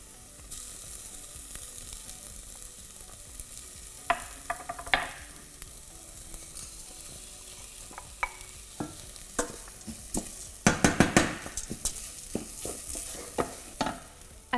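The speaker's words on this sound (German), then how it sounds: "Als nächstes gebe ich das Tomatenmark und das Risotto in den Topf." Tomato paste and risotto rice sizzle in a pot, with a soft steady frying hiss under repeated scraping and stirring strokes that grow louder and quicker toward the end, with no talk.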